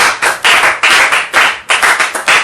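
A church congregation claps together in acclaim of the Lord, a loud, dense run of bursts in a steady rhythm across the whole moment, with no voices over it.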